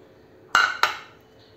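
A utensil knocks twice against a pan of khava basundi, sharp metallic clinks about a third of a second apart while the milk with cardamom and dry fruit is stirred, close and otherwise quiet.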